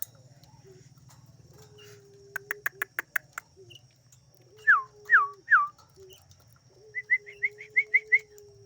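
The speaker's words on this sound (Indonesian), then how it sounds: "Jalak kebo." A Javan myna (jalak kebo) calls in a quiet setting, giving sharp clicks, a few descending whistled notes and then a quick run of short repeated whistles over a low background hum.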